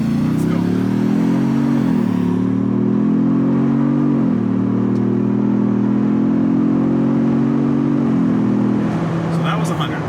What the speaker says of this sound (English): let's test this thing from a full dead stop, full throttle, foot to the ground